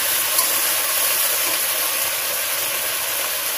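Potatoes and taro chunks sizzle in hot oil with salt and turmeric, a steady loud broadband hiss of frying that holds evenly throughout without pause, in a village kitchen.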